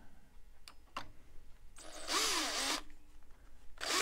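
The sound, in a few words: power drill with Allen bit driving screws, DeWalt DW735 planer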